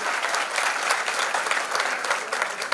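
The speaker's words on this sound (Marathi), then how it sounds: "त्यांच्यासाठी एकदा जोरदार टाळ्या झाल्या पाहिजे." Loud, dense applause from a crowd at a winning celebration, continuous energetic clapping filling the space without speech.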